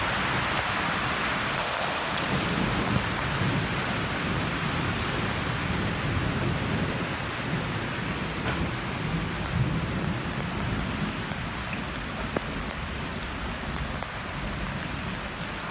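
Steady heavy rain falls on a rainy day in Islamabad, a dense continuous hiss with low rumbling thunder underneath, no voices, lasting throughout.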